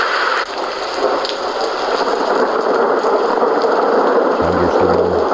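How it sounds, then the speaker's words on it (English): A Three Sheep white noise sleep machine plays its thunderstorm track: dense, steady rainfall hissing across a surface, with faint low rumbles of thunder, continuous and fairly loud throughout. "Thunderstorm."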